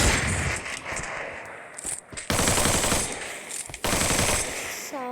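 An MP40 submachine gun fires in a video game, with rapid, loud rattling bursts broken by brief gaps and several separate volleys.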